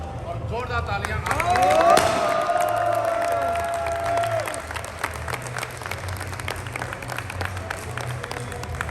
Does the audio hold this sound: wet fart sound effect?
no